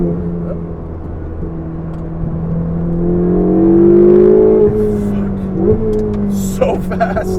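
Ferrari 488 GTB twin-turbo engine accelerating, a rising engine drone that swells and climbs in pitch before easing off, with a voice speaking over it near the end.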